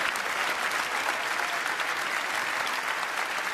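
Crowd at the snooker Masters at Alexandra Palace in London applauding, a dense, steady roar of clapping that fills the whole moment without letup.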